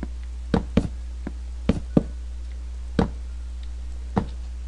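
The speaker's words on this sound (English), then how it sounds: "I'm getting ourselves some cobble." Cobblestone being mined in Minecraft, heard as a handful of sharp, dry knocks at uneven intervals over a faint steady hum, with no talking.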